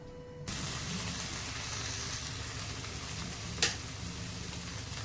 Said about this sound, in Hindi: देखिए हमारे प्याज के मसाले को भूनते हुए 2 से 3 मिनट हो गए।